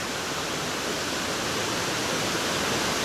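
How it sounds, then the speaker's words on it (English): Dense, unbroken roar of a waterfall along the Tellico River near Tellico Plains, loud and close, a continuous hiss of pouring water with no other sounds. "Very nice waterfall."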